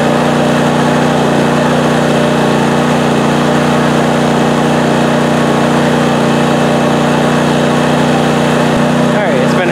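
PowerSmart 4400-watt RV-ready generator running steadily under the load of a space heater, a loud continuous engine drone with a strong low hum that holds unchanged throughout, briefly disturbed near the end.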